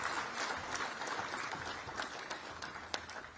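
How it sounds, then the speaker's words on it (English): Steady audience applause at the inauguration of the Motilal Oswal Executive Centre at the Indian School of Business, a dense, even patter of many hands held at moderate level throughout. "Can we give another round of applause?"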